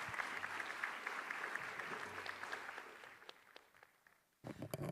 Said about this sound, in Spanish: nuevamente un aplauso para nuestros expertos